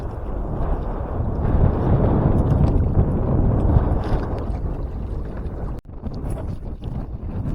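Strong wind buffets the microphone in a continuous, loud roar, with gusts swelling and easing and a brief sharp dropout near the end.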